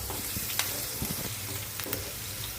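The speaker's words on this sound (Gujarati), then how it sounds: "ઝીણા સમારી દીધા છે અને આપણે થોડા સાંતળીશું" Finely chopped green chillies sautéing in a pan over a low flame for a Gujarati tuvar lilva kachori filling: a steady, close sizzle with light stirring scrapes and clicks, no voices.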